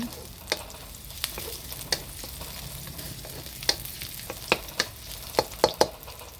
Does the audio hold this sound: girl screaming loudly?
no